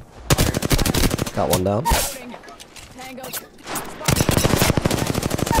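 Loud, rapid automatic gunfire in the battle royale game Apex Legends, long rattling bursts at the start and end, briefly broken by a voice speaking in between.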